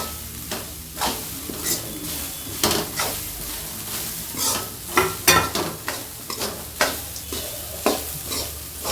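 Grated coconut stirred into a frying pan while cooking Chettinad-style white chicken kurma, with steady sizzling under repeated scraping strokes of a spoon against the pan, close and fairly loud, no talking.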